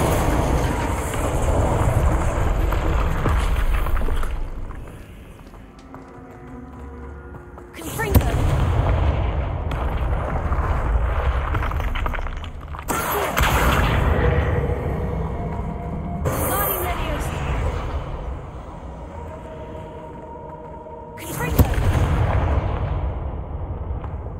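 Spell blasts from the Confringo and Incendio charms in the Hogwarts Legacy video game, several loud booming bursts that recur every few seconds over a rumbling game soundscape, with talk audible between them.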